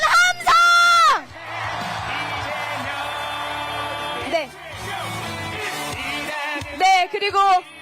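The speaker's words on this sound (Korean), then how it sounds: "함성!" A crowd at a Lee Jae-myung presidential campaign rally in Ulsan cheers and shouts loudly, with high drawn-out yells rising and falling over a steady roar and brief lulls between bursts.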